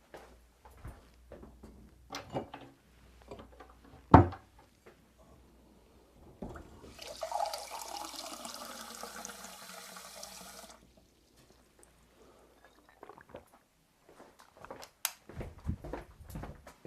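Tap water runs steadily for about four seconds as water is collected for drinking, a broad hissing splash that rises and stops abruptly, set between quiet room noises and a sharp knock.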